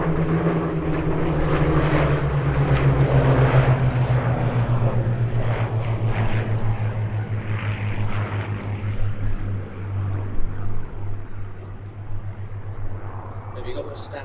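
A Hawker Hurricane, a WWII propeller fighter, drones overhead at the Sywell airshow, a loud steady piston-engine rumble that slowly fades as it passes, with commentators talking throughout.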